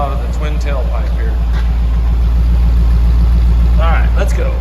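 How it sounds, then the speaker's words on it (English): A 1973 Mercedes 280SE sedan with a 4.5 V8, overhead cam and aluminum heads idles with a steady low rumble from its twin tailpipes, close and continuous, while someone talks over it. "nice little rumble out of the twin tailpipe here."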